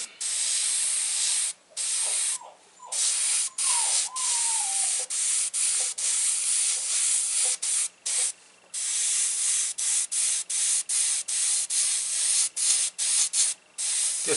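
An airbrush sprays black base paint onto a T-shirt in repeated bursts of airy hiss, some short and some sustained, separated by brief pauses, close and alone.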